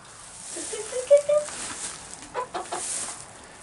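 Chickens clucking inside a coop, a few short close clucks over a steady background hiss, moderately loud.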